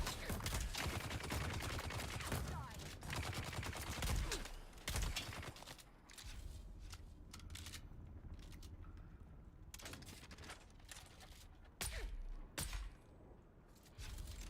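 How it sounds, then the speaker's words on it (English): Automated sentry gun firing in the survival game Dune: Awakening, rapid bursts of gunfire in close succession, loud and dense at first, then sparser separate shots and short volleys. "The sentry gun."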